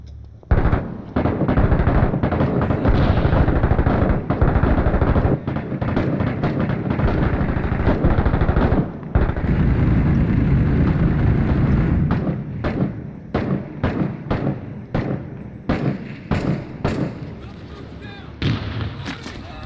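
Gunfire rattles through a Six Days in Fallujah combat video game, loud repeated shots and heavy thumping bursts packed close together early on, then spaced into sharper single cracks, with players talking beneath the shooting.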